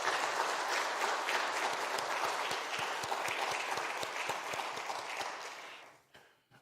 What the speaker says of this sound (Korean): 우리 감사의 박수 한번 치도록 하겠습니다